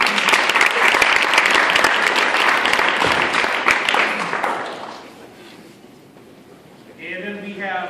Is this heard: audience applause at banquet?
yes